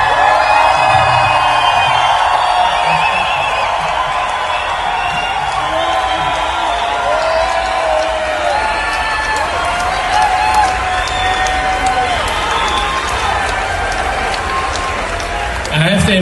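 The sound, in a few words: audience applause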